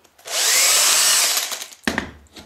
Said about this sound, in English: we drill